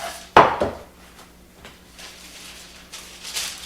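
A pan of orange mascarpone sticky buns is flipped over, making one sharp metallic clatter followed by faint rustling and light knocks in a quiet kitchen.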